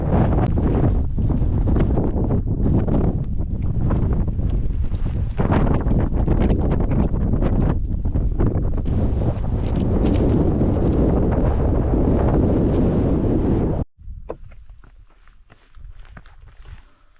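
Strong wind on a mountain in the Canadian Rockies buffets the microphone with loud, continuous gusty rumble, mixed with scuffing footsteps, then drops abruptly to a quieter breezy hiss near the end.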